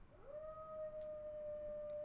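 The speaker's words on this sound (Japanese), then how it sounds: "Yeah, that dog is loud." A single long dog howl from outside a mansion at night rises and holds steady, faint and distant, with no talk.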